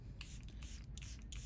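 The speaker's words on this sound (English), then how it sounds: "I'm going to use the setting spray." Charlotte Tilbury travel-size makeup setting spray misted in several short hissing bursts, close and fairly quiet, with no talking.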